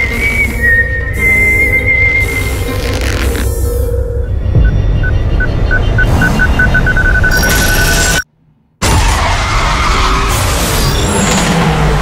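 A Hyundai Kona N with a 2.0 TGDI engine drives hard as its tires screech and skid, long whistling squeals over loud engine roar, close up, cut by a brief silent gap before the noise resumes.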